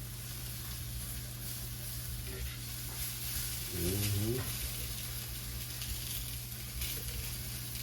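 Food fries in a skillet with a steady hiss and faint popping throughout, while a voice briefly rises over it midway.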